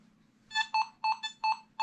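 Nokta Makro Simplex+ metal detector responding to a wheat penny: a run of five bright, pulsing electronic tones in quick rhythm, close and clear over a faint low hum, with no talking.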